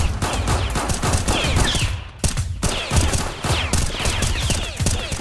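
Sustained gunfire from weapons in a Roblox South Bronx hood roleplay game, dense rapid bursts and volleys running nearly throughout with a brief lull in the middle, loud and close.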